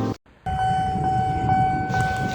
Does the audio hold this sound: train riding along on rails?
yes